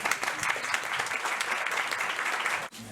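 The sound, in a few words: audience applause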